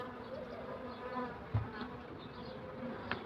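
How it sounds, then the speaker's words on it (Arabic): Honeybees buzz steadily around a young hive split from a single colony, a close, continuous drone with a few louder passes as individual bees fly near. "النحل موجود وبكثافه"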